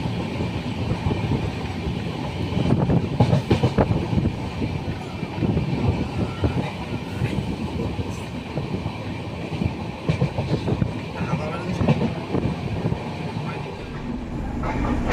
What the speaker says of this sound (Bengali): রাত 10:37 আমাদের ট্রেন ছেড়ে দিল খড়গপুর স্টেশন।